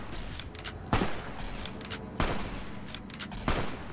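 Gunfire in Fallout: New Vegas, with three loud sharp shots spaced about a second apart over a steady hiss of background noise.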